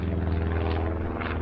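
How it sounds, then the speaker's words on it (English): A small propeller plane passes overhead in a tourist town, a steady loud droning engine hum that fills the whole moment with no talk. "there's a little plane above me."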